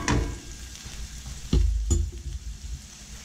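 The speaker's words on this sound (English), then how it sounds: "Now we're going to stir in more butter." Butter being stirred into a hot pan for lobster scampi, with faint sizzling and a couple of sharp utensil scrapes against the pan, quiet and close.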